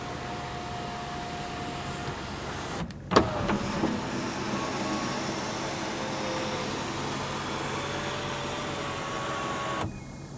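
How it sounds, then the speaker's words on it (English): A Hyundai Elantra GT panoramic sunroof opens with a soft, steady electric motor whine inside the car, starting after a brief click and running evenly for several seconds before stopping. "One really cool option on the Elantra GT is this, the panoramic sunroof."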